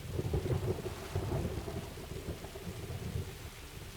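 Rain and rumbling thunder in the video game Project Zomboid, a steady patter of rain under low rolling thunder that swells and fades throughout, with no voices.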